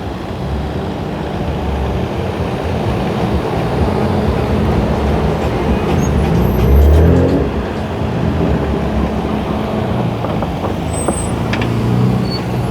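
A BMW M2 rolls into a cars and coffee meet, a loud, continuous engine drone with a slight swell midway, broadband road and exhaust noise held close throughout.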